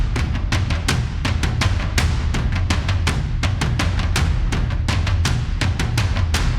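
Cinematic percussion drums pound hard with high velocities and strong accents on the downbeat, a loud, dense rhythmic pattern of deep booming hits and sharp strikes repeating steadily without any voice.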